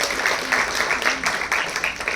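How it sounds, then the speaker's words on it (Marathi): A school audience at a website inauguration ceremony gives steady, moderately loud applause, a continuous wash of clapping without pauses or speech. "जोरदार टाळ्या वाजवून आपण त्यांचं स्वागत करूया"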